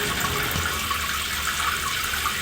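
Water gushes from a bathroom tap in a home, a steady hissing rush of running water, loud and continuous throughout with no voices.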